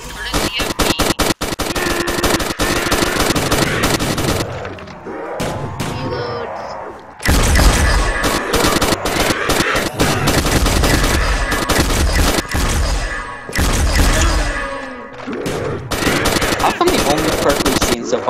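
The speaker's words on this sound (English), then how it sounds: "And then I'll shoot my gun at the floor." Rapid automatic gunfire from a Call of Duty zombies mode played in Minecraft, loud and close, in long sustained bursts broken by short pauses, with game sounds in the gaps.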